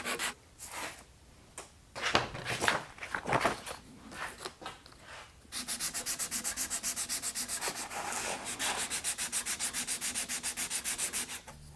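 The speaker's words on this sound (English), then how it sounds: "I like to sand this back edge at a slight angle that matches the angle of the headstock." Sanding the angled back edge of an oak truss rod cover for a guitar headstock with 400 grit paper, heard as irregular scrapes at first, then a steady run of rapid rhythmic back-and-forth strokes, close and fairly quiet.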